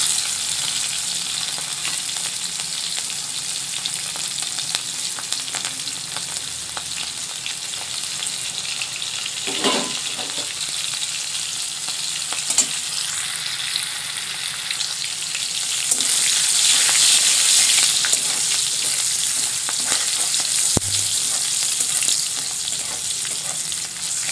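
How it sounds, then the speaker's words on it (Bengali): Chopped garlic and green chili fry in hot oil with a steady, loud, continuous sizzle and crackle that swells slightly toward the end; no voices are heard. "রসুন আর কাঁচা লঙ্কা ভালোভাবে ফোড়ন হয়ে গেছে।"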